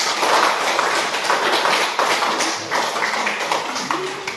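An audience gives a group dense, continuous applause that fills the room at a steady level throughout, with no clear speech over it.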